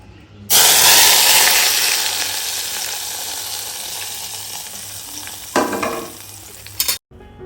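Hot oil is poured into a sauce and bursts into a loud, sudden sizzle that slowly fades to a steady hiss, with a second brief flare near the end.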